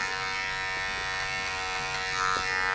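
An electric hair trimmer run over a comb to trim a beard buzzes steadily up close, with a constant motor drone and slight shifts as it passes through the hair.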